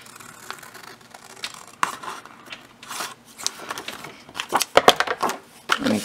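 Scissors cut through paper for a printable mini book, irregular snips and crinkles building to a quick cluster of louder cuts, close and fairly quiet.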